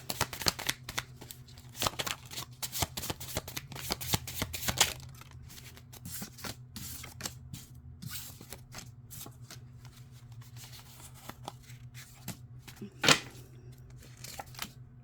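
A tarot deck is shuffled again and again, crisp riffling bursts and clicks, close and quiet, with no talking.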